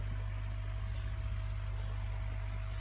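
Molasses poured into a bucket of water while making vermicompost tea, a steady low trickling pour under a constant droning hum of an aerator pump, faint and continuous.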